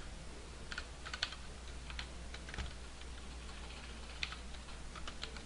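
Keys are pressed on a computer keyboard, a Ctrl+I shortcut being entered during 3D modelling work, heard as scattered soft clicks over a low steady hum, quiet and close with no voices.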